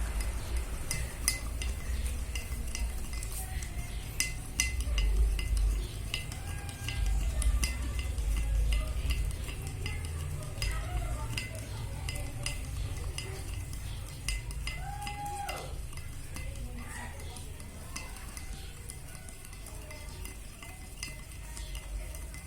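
Detergent solution stirred steadily with a spoon for a banana DNA extraction: continuous scraping and swishing close by, with faint clinks against the container, and no voices.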